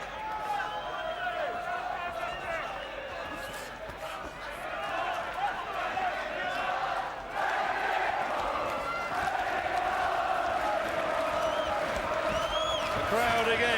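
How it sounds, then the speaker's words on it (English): Boxing crowd at a WBO 130lb title fight between Ricky Burns and Andreas Evensen in Scotland, chanting for Burns as a steady, loud roar of massed voices with rising swells across the whole stretch. "The crowd again set up the chants for Ricky Burns"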